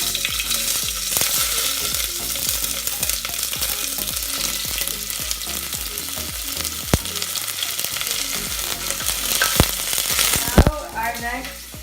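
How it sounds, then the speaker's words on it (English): Onion sautés in hot oil in a pan with a loud, continuous crackling sizzle, punctuated by rhythmic scraping and stirring strokes and a sharp clank near the end, heard close with no talk. "Now we will saute the onion."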